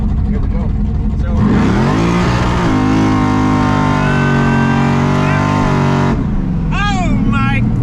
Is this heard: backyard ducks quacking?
no